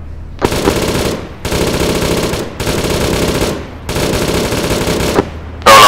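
Machine-gun fire in a video game comes in about five long, loud, sustained bursts separated by short gaps, close and dominating.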